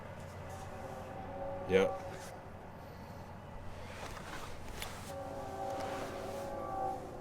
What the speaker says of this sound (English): I feel like I hear a train coming